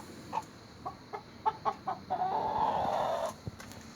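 Chickens cluck in short, close bursts, then one lets out a longer, drawn-out call before a couple more clucks.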